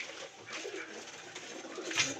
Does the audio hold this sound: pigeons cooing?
yes